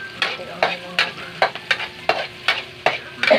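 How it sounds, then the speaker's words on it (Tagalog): Onion and garlic fry in a pan as lugaw toppings while being stirred, giving rhythmic scraping strokes roughly every half second over a soft, close sizzle. "Gisa na tayo ng sibuyas, bawang, ricado yan."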